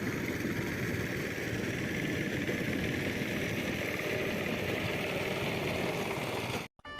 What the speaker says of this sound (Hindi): अभी घर में लेके जा रहे हैं ट्रैक्टर को